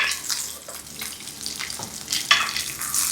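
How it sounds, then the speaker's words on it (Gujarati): Capsicum roasting in hot oil over a high flame in a pan, a dense continuous sizzle and crackle with occasional stirring scrapes, loud and close, no voices. "કેપ્સિકમ મરચાં ફૂલ હાઈ ફ્લેમ ઉપર રોસ્ટ કરી લીધા છે."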